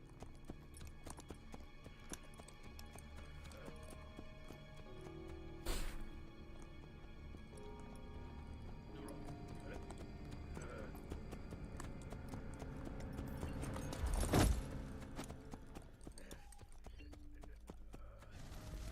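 A horse gallops in the Assassin's Creed Brotherhood video game with a steady, quiet run of hoof clip-clops beneath a game soundtrack, broken by a couple of louder impacts.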